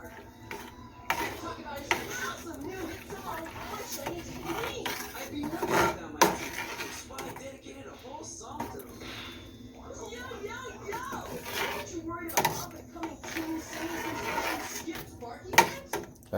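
Milk is stirred in a pot while making cheese at home, and a utensil knocks and scrapes against the pot in scattered clinks. A person talks throughout over the stirring.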